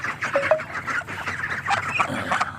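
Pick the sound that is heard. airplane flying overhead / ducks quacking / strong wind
ducks quacking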